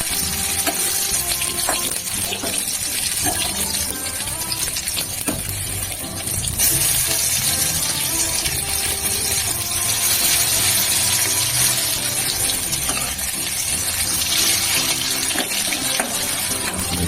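Chicken pakora frying in hot oil, a steady dense sizzle and crackle that holds evenly for the whole stretch, close and fairly loud with no voices.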